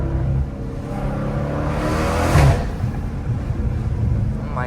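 A Dodge Challenger Scat Pack with the 392 engine revs hard under acceleration, a deep rumbling roar that swells to a peak midway and then settles into a sustained drone, with no talking.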